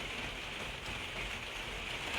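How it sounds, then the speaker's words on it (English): Steady rain falling in Yorkshire, a constant soft hiss of drops with no breaks, moderately faint and unaccompanied by talk. "The rain is coming down."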